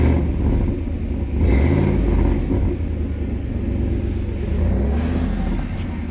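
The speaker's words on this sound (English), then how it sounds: "So this is just the Flowmaster, you know, in a place of the regular exhaust" A 2019 Chevrolet Silverado's aftermarket Flowmaster exhaust rumbles deeply at idle, with a couple of brief revs swelling and settling, loud and close.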